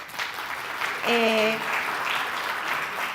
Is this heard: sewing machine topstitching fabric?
no